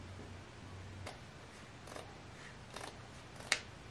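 Scissors snip through a piece of material for a simple Dollar Tree Christmas craft, giving a few short, sharp crisp cuts spaced about a second apart, the last one loudest, over a quiet room background.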